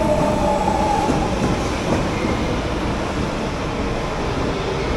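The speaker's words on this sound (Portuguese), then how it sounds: "Lá vem ele, ó. Está vindo do centro de Brasília e vai para Taguatinga" A Brasília metro train arrives at a station, a loud sustained rumble of rail cars rolling in with a brief wheel squeal near the start.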